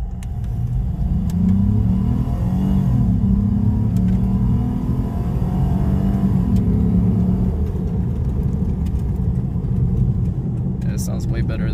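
Lexus IS250/IS350 F Sport with an aftermarket air intake accelerating, a loud rising engine rumble and intake growl building through several gear pulls heard from outside, with people talking over it.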